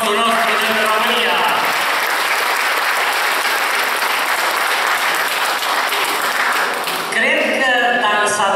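Audience at a Romanian summer folk concert applauds in a loud, steady wash of clapping, with voices and music entering near the end.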